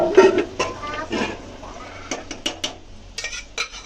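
Homemade pav bhaji stirred and mashed in a pan, with repeated clanks and scrapes of a utensil against the metal, close and moderately loud, over faint background voices.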